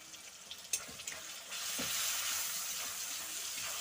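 Onions sizzle and fry in a pan as turmeric powder goes in, a faint, soft hiss that swells steadily after a few small clinks and stirs, with no talking.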